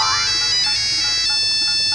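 A mobile phone ringtone plays loudly and close by, a bright electronic melody of sustained tones that fills the whole moment.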